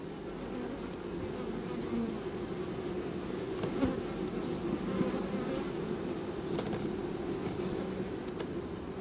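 Honey bees hum steadily at the hive during comb-building season, a soft continuous drone with occasional louder buzzes as individual bees pass close by.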